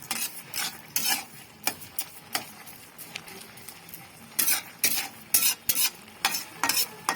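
A spoon scrapes and stirs grated carrot halwa with sugar in a pan, giving irregular bursts of scraping and clinking against the metal with a soft sizzle between strokes, close up.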